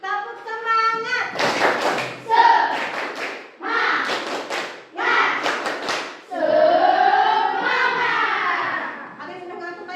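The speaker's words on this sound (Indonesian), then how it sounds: "Tepuk semangat." A classroom of pupils performs a rhythmic spirit clap, short bursts of hand claps and taps in patterned groups alternating with chanted voices, close and lively.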